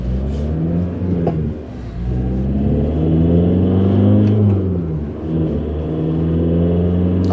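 A non-turbo Volkswagen Caddy SDi van's 68bhp diesel drones loud and close while accelerating downhill, its low rumbling pitch climbing through the revs with a brief dip around a gear change.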